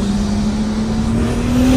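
A steady, loud engine hum from a 2023 manual Toyota Supra drones close by, its pitch rising slowly as it revs.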